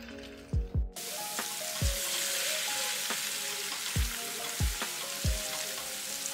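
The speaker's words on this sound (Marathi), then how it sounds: "मग टाकायचा कांदा आणि कांदा पण छान सॉफ्ट होईपर्यंत तेलामध्ये परतवून घ्यायचा" Chopped onion and green chili fry in hot oil, a dense steady sizzle broken by several sharp pops and clatters of a spatula stirring the pan, close and alone with no talking.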